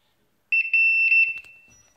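Gas detector alarm sounding during a bump test, a loud, close, high electronic beeping in quick pulses that starts abruptly and then cuts off, with no talk.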